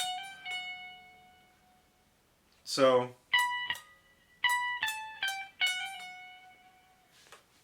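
An electric guitar plays a lick from a solo, using hammer-ons and pull-offs in clustered, ringing notes. It comes in grouped bursts after a brief spoken word, with sustained tones fading between phrases.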